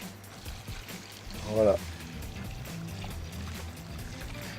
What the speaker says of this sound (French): on va rajouter 4 litres de bouillon